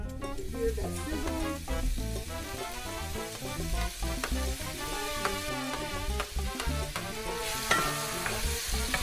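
Chiles rellenos sizzling and crackling in a pan, with frequent scraping and stirring of a utensil, close and continuous throughout.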